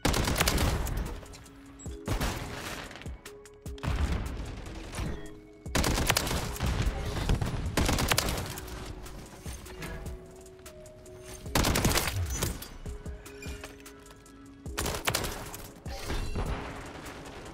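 Heavy gunfire from Call of Duty: Modern Warfare III, loud overlapping automatic bursts of MTZ 762 rifle fire, roughly a second or two apiece, with short gaps between and a faint voice underneath.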